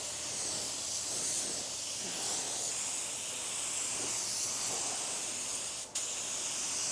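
A spray gun lays a light gold high-metallic base coat onto a panel, producing a steady close hiss that holds for several seconds before a brief break near the end.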